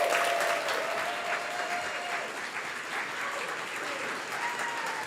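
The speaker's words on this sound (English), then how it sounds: "Give her a huge round of applause." Conference audience applauding a sustainability director as she is welcomed to the stage, continuous loud clapping throughout that fades only slightly.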